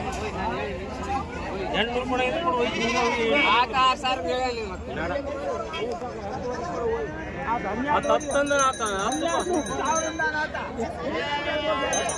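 Lambs bleat among the crowd at the Sindhanur sheep market, their cries mixed into a busy hubbub of nearby chatter and people talking.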